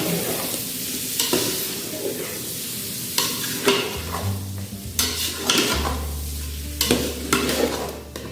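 Vegetables and chicken with carrot being mixed in a pan for Arabic chicken madhooth, frequent clattering spoon-on-pan strokes over a steady frying sizzle, close and fairly loud, with a low hum entering partway.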